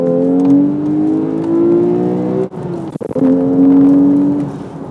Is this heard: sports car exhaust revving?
yes